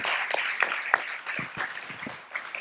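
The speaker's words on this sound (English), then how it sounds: "We can clap again for them" A university audience at a constitution discussion event claps for performers, a brief, moderate patter of hands with a few sharper individual claps standing out and a faint murmur underneath.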